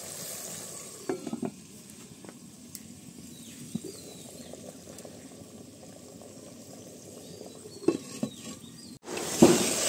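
Meat stirring and sizzling in a clay pot, a steady low frying crackle with occasional scrapes and clinks of the spoon, ending in a louder splash and hiss.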